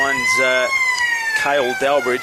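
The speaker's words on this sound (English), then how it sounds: "that's the siren at three-quarter time here at Digger Doors" Three-quarter time siren sounding at a Goldfields Football League ground in Australia, Mines against Railways: a loud sustained steady wail running throughout, with a commentator talking over it.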